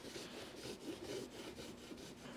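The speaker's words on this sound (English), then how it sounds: "I think we'll work on that with some sandpaper." Sandpaper rubbed over an acrylic window on a truck camper, giving a steady, close scratchy rasp that pulses in quick back-and-forth strokes with no pauses.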